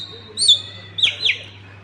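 Two pigeons kept on a rooftop give a few short, fairly close calls against a low steady hum and faint background noise.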